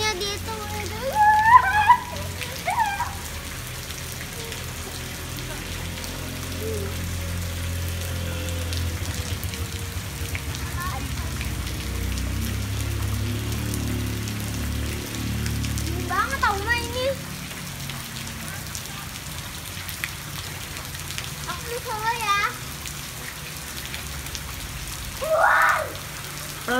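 Steady rain falls on surfaces outdoors in Padang Sidempuan, a continuous hiss lasting throughout, with a few distant voices of children playing in it.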